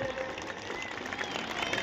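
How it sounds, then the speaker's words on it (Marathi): Students at a cricket match get faint, steady applause from a crowd, heard as a dense wash of clapping at a distance. "अशा या सर्व विद्यार्थ्यांचा उत्साह वाढवण्यासाठी सर्वांनी एकदा जोरदार टाळ्या होऊन जाऊ द्यात"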